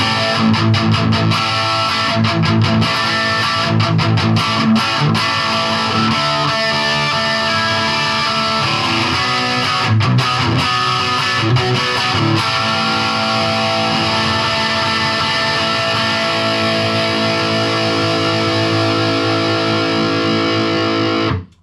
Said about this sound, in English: bridge pickup with a distortion